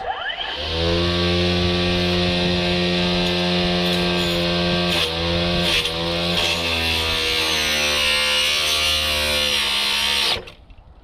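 A Greenworks Pro string trimmer fitted with a modified attachment spins up to a loud, harmonic-rich electric whine, wavers and bogs briefly midway, then cuts off abruptly near the end.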